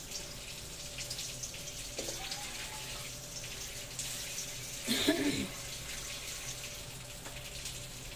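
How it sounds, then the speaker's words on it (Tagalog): Tap water running into a pan of pork liver cooking with onions and marinade, a steady faint stream with a brief louder splash near the middle. "Yan, dinagdagan ko ng tubig."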